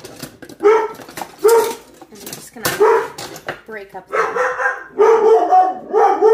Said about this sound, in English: My dogs are choosing now to bark.